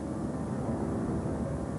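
A steady, dense roar of Airbus A310 engines straining in a steep climb holds at a constant level throughout, broad and unbroken like a cabin drone.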